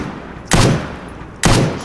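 Two loud, sharp weapon gunshots in the video game STALKER Anomaly, spaced about a second apart, each with a short booming tail and no voices.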